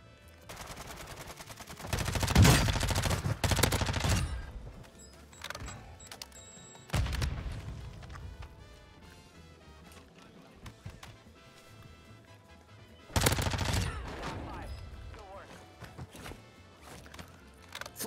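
Flashbang grenades and bursts of gunfire in a first-person shooter video game with MP5 and M4 guns, loud heavy blasts near 2.5, 7 and 13 seconds over a steady busy game background.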